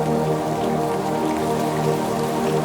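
Rain pours steadily and loudly, a dense continuous wash of drops with no pauses or voices.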